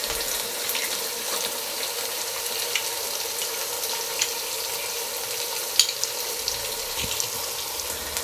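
Beef sizzling in a pan with ground coriander and cumin paste for a Bengali wedding-style beef curry, a steady close frying hiss that runs the whole time with faint stirring scrapes and no talk.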